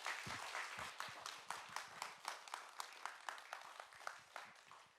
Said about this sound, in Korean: 뜨거운 박수로 강재윤 시인을 맞겠습니다.